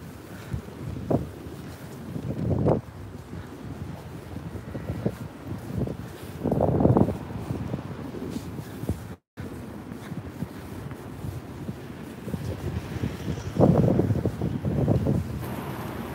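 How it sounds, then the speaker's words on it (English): Gusty wind buffets the microphone in repeated low rumbling bursts, swelling and fading, with no one speaking. "Sorry about the wind. It's a little bit of a breeze here."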